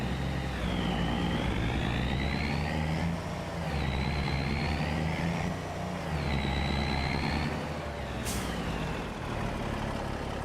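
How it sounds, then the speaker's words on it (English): A truck in Farming Simulator 25 heard from outside, its deep engine rumble overlaid by a rising and falling turbo whine that swells several times, with a short sharp hiss near the end. "Hear the turbo."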